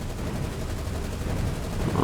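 Heavy gunfire from a strafing run in the naval combat game War on the Sea, heard as a dense continuous roar of rapid shots with no pauses.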